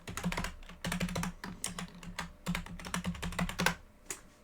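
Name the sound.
typing a password on a computer keyboard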